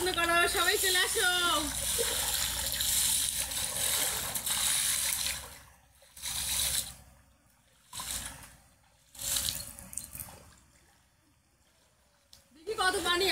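Water splashing in a pond with water lilies during a midday bath, loud close bursts of churning and slapping water broken by short quiet pauses, with a voice heard briefly at the start.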